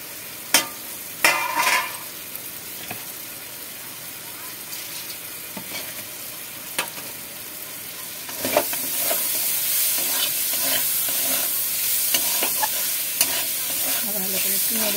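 Paneer curry frying in a pan is stirred with sharp scraping knocks, then settles into a louder, steady sizzle that continues with occasional stirring clatter.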